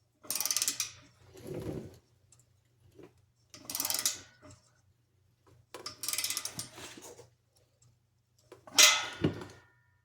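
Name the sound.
ratchet torquing down Borla exhaust clamp on Ford Taurus SHO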